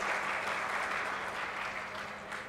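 Audience applause welcoming an evening session of a communication conclave, a sustained wash of many hands clapping from across a hall, steady and moderately distant, tapering slightly at the end.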